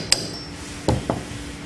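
Three light metallic taps seat a tablet compression punch back into its rotating punch head: one sharp click, a pause of most of a second, then two quick, softer knocks close together.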